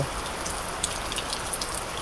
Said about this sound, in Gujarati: અત્યારે વધારે આવ્યો